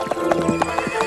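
Horse hooves clip-clop in a quick rhythm while a horse neighs loudly nearby, all within about a second.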